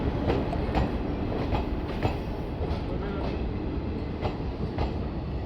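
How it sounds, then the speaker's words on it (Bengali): Train 13154 Malda Town–Sealdah Gour Express pulling into Nalhati station behind a WAP-4 electric locomotive: a steady, loud rumble with periodic wheel clacks over rail joints, and no talking. "নলহাটি স্টেশনে WAP 4-এর সাথে এসে পৌঁছালো train number 13154 Malda town Sealdah Gaur express."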